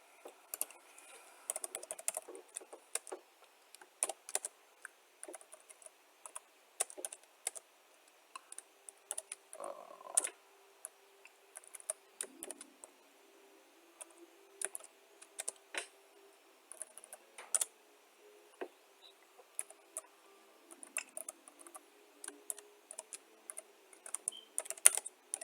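Steady typing on a computer keyboard while text is filled in at a terminal, a long run of quiet, close key clicks in uneven bursts with short pauses, no voices.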